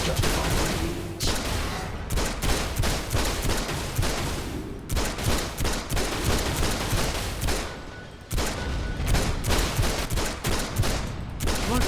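Rapid continuous gunfire in the DC Universe Online video game, bullets striking and wrecking vehicles in dense volleys of close, loud shots with brief gaps.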